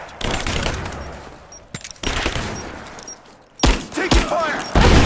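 Rapid automatic gunfire bursts in the Rise of the Tomb Raider video game, loud and close, broken by short pauses and thuds, with voices shouting in the background.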